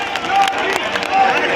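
Crowd applause at a Delhi election rally for Yogi Adityanath, a dense, continuous clatter of many hands mixed with murmuring voices, fairly close and loud.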